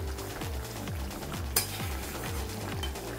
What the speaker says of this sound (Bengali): তো দেখো এখানে আমার ঝোল ফুটে এসছে, ডিমের